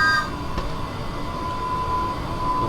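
A passenger train on the Island Line in Train Sim World 2 pulls away, a steady loud rumble of wheels and motor with a faint high tone, no talking.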